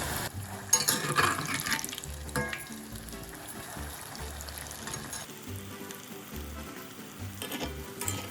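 Malai koftas frying in hot oil, a steady close sizzle with crackling bursts and occasional stirring clinks, heard alone without talk.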